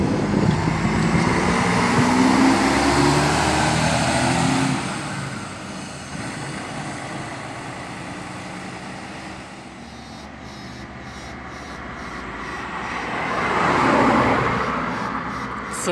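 A Rápido Federal intercity coach on the Goiânia–Brasília route rolls through Brasília's interstate bus station, a loud engine rumble that fades, then another vehicle swells past near the end, with station noise throughout.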